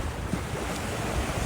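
Ocean surf washes steadily onto a beach on a morning walk, a constant broadband roar of waves with wind rumbling across the microphone, no voices.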